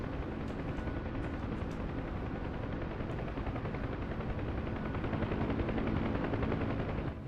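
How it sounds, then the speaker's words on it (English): Dense, continuous rapid gunfire crackles under a loud mechanical roar of World War II aircraft combat in the flight simulator DCS World, with no talking. "It's just hearing you over the gunshots as well."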